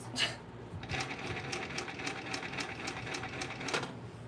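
A cylinder arm sewing machine stitches through a Gucci bag being upcycled, giving a close, rapid run of regular mechanical clatters after a brief start-up knock, with no talking.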